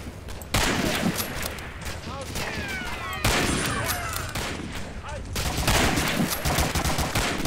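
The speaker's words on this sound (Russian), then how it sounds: "кто-то стреляет, но я его не вижу" Heavy gunfire fills a battle in the video game Medal of Honor: Allied Assault Spearhead. Loud volleys and rapid automatic bursts overlap almost continuously, with bullets whizzing by during brief lulls.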